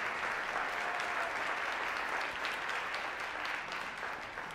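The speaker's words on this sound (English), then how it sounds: "so give them a round of applause" A school audience claps at an elementary band and chorus and high school band winter concert, a continuous, fairly distant wash of applause that tapers slightly at the end.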